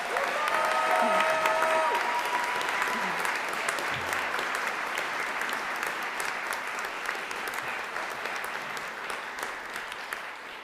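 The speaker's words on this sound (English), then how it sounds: "One more round of applause for everybody." Sustained applause from a seated audience at a graduation commencement ceremony for a popular fiction writing program, a dense, steady wash of many hands clapping that fades slightly toward the end, with a brief voice early on.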